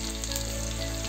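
Onion frying in oil with bay leaf for a mutton paya curry, a brief steady hiss of sizzling oil, close and even, with no voices.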